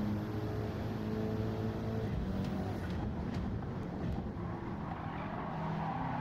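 A race car engine in Gran Turismo 7 at Watkins Glen roars steadily, a dense continuous drone with shifting pitch that suggests changing revs, playing alone without commentary.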